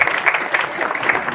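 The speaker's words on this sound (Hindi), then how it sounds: "कोहिनूर दा के लिए एक बार जोरदार तालियां हो जाए" Audience at an album launch event giving a short, lively burst of applause, quick clustered claps close by, with no talking.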